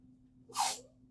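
A single sharp sneeze bursts out close by, brief and breathy, against a quiet background.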